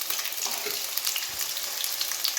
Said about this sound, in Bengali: তারপরে আলুগুলো সুন্দর করে লাল লাল করে ভেজে নিতে হবে